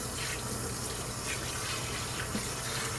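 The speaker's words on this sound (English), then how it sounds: "You can rinse your hands. Make sure you get all the soap off." Tap water pours steadily into a sink as hands are rinsed of soap, a continuous close hiss and splash with slight fluctuations.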